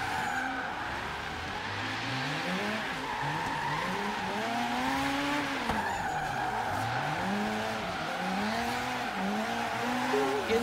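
Engine notes from several cars drifting in tandem in the Forza Horizon 3 racing game, including a Nova built for drifting, with long rising and falling revs over steady tire squeal, continuous and fairly loud.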